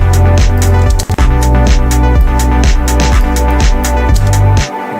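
A retro synth arpeggio from a MIDI arpeggiator runs in rapid, steady repeating notes over a loud pulsing bass pattern, dense and continuous before cutting off near the end.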